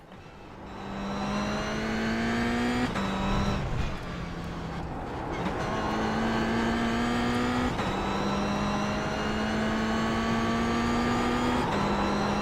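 Race car engine in a motor racing video game, loud and continuous, revving steadily with sharp gear-shift drops, a stumble as the car loses control on corner entry, then climbing revs again.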